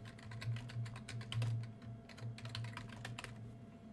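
Someone typing an email address on a computer keyboard: quick, quiet, steady key clicks over a low constant hum, no voices.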